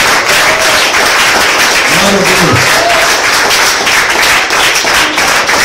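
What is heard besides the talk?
audience applauding loudly in church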